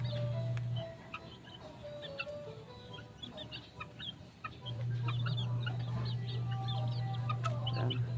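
Chicks peep and chirp in a brooder with soft clucking, close and busy throughout, over a steady low hum that fades out briefly in the middle.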